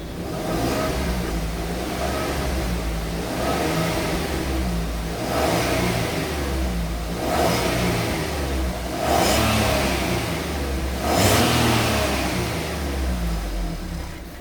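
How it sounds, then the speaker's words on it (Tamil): A Maruti Alto K10 car engine revs up again and again in a steady rhythm, rising roughly every two seconds over a continuous loud idle, close by with no talking. "ரைஸ் பண்ணி காட்டுறேன், செக் பண்ணிக்கோங்க."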